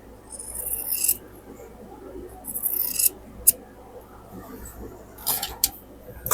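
Scissors or a rotary cutter cut through quilting cotton fabric with short, crisp slicing strokes and a few sharp snips, separated by quieter rustling and handling of the cloth.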